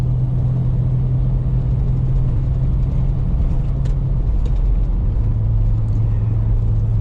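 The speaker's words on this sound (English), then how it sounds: "But it's quite smooth on the highway, quite quiet for what it is." Inside a Nissan GU Patrol cruising on the highway, a steady low engine drone and road rumble hold throughout with faint wind noise, smooth and fairly subdued, no voices.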